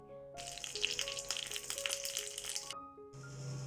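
Mustard seeds, dried chillies and curry leaves hit hot coconut oil for a chutney tempering, giving a sharp crackling sizzle with popping bursts for a few seconds, then a brief lull and more sizzle, over soft background music.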